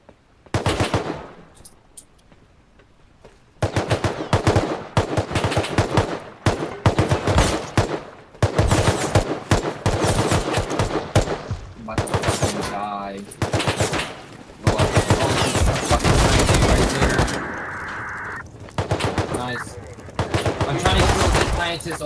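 Loud, close machine-gun fire in a video game, heard as long rapid bursts with short pauses between them and a voice talking over parts of it.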